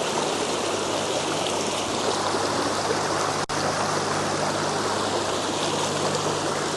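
Strong creek current rushing steadily and loudly, a dense continuous wash of water close by, with one brief dropout partway through and no talking.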